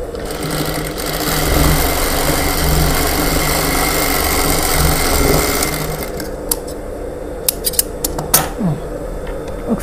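A sewing machine stitches a lined blouse with a steady close motor whir for several seconds, then stops, followed by a few sharp clicks and handling taps of fabric and tools.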